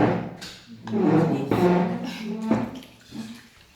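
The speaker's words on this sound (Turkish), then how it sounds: "Ellerini ıslatıyorlar." Water pours and splashes as people wet their hands before a meal in Zambia, with uneven gushes and trickles close by.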